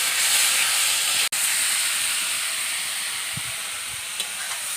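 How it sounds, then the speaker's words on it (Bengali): Fish curry with salt and turmeric hisses steadily in a hot pan, a broad continuous sizzle with one abrupt clatter and a few faint scrapes of stirring, no voices. "দিয়ে এখন ভালো করে নেড়ে নেব।"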